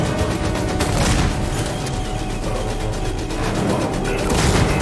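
Loud pump shotgun blasts in Alien: Isolation boom over a dense, noisy battle soundscape, shots landing irregularly amid explosions and clatter.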